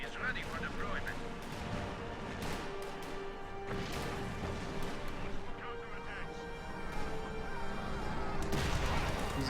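Grenade explosions and gunfire in the Company of Heroes 2 strategy game, dull booms and scattered shots in a dense battle din, heard under a commentator's voice.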